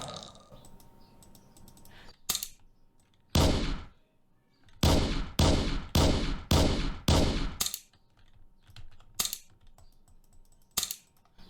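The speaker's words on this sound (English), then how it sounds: "let's use our shotgun." A shotgun firing in a Scratch top-down zombie shooter game: a rapid run of five or six sharp, loud blasts, followed by a few isolated shots and some mouse and keyboard clicks between them.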